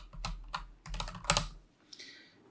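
Fingers tap out a short burst of typing on a computer keyboard, a few quick close clusters of key clicks, then a brief lighter tap, quiet and with no talking.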